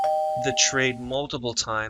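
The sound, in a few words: doorbell alert sound from trading software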